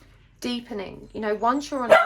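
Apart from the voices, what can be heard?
pet dog barking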